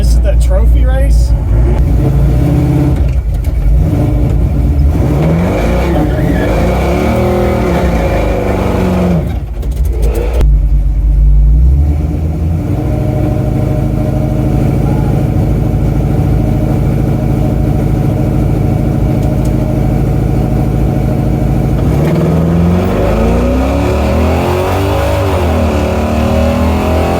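A carbureted race car runs in a trophy race, its loud engine droning and revving close by with rising and falling pitch sweeps throughout, a voice talking over it at times.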